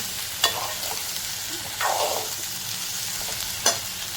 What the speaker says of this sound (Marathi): आधी मोठाच गॅसवरती परतून घेऊया आपण